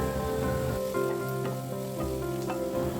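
Food fries in a pan over a medium flame, seasoned with chilli powder and pepper powder. A steady, close sizzle carries on throughout with a few soft stirring scrapes and no talking.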